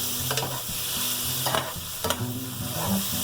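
Pork frying in a hot pan for Lao green curry, a dense continuous sizzle up close with several sharp spatula scrapes and stirring clatters, no talking.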